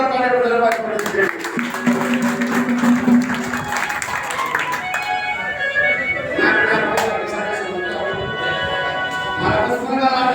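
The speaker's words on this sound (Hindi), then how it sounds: "एक बार जोरदार ताली बजाइए।" Crowd at a political rally bursts into applause, a dense wash of clapping mixed with cheering voices and loudspeaker speech, fairly loud and sustained.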